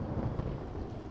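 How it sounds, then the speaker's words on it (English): Thunder rolls during a storm, a low, deep rumble that stays steady and muffled, with no voices, over about a second. "Just that sound of thunder when it like, you can hear it like rolling"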